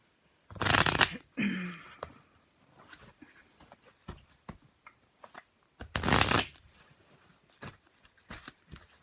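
A tarot deck is shuffled and cut in two loud, riffling bursts near the start and again a few seconds later, with soft card handling and taps in between and no talking.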